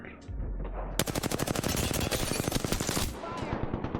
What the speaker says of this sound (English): I hear gunfire behind me